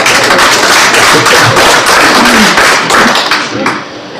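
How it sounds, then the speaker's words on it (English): A crowd of women claps at a National Unity Party rally unveiling a presidential candidate, a dense, loud, continuous patter of many hands that thins slightly toward the end. "I expect women to clap."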